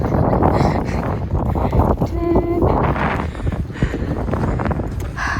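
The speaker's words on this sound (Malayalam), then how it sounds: "നല്ല കാറ്റുണ്ട്." Strong wind buffets the microphone outdoors among large buildings in Vienna, Austria, a loud rumbling gusty roar with brief clatter and faint voices in the background.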